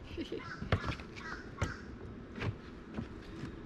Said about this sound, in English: Maybe if I give that crow a piece of fish, he'll be quiet.